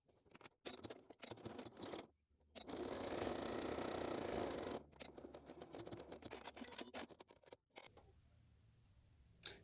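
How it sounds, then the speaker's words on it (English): A sewing machine top stitching along the top edge of a crossbody bag onto the main body fabric, one steady whirring run of about two seconds set between bursts of fabric handling and clicks, quiet and close. "So now I'm going to top stitch along that top edge onto the main body fabric"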